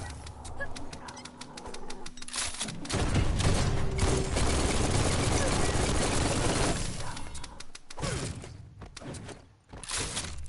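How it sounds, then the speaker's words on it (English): Bursts of heavy gunfire in a game, a dense, loud fusillade in the middle with thuds and sharp cracks, quieter scattered shots at either end, and voices talking. "Bullets everywhere."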